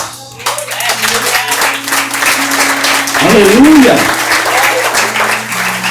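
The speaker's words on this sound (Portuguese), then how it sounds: "ela merece os nossos aplausos" Church audience breaks into applause, dense clapping throughout, with a preacher's voice and shouts rising over it.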